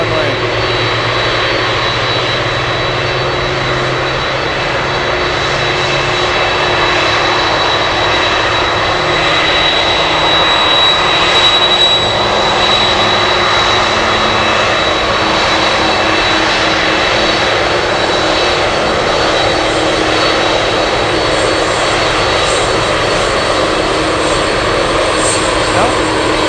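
Airplane taxiing across a runway at Anchorage airport in windy conditions, a loud continuous engine roar with propeller drone holding steady throughout, close by.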